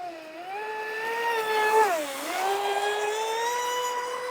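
Small radio-controlled hobby boat motor at full throttle, a steady high-pitched whine that dips briefly as the boat turns, then climbs back and holds, loud and close with no talking.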